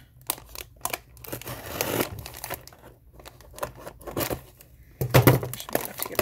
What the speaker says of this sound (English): I have scissors nearby.